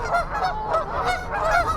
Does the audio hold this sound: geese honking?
yes